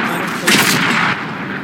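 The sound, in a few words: artillery fire in World of Tanks video game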